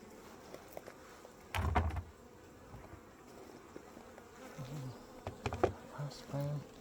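Honey bees buzz steadily around a hive during a frame inspection, a low droning swarm close by with a few louder passes and scattered knocks of frames and footsteps.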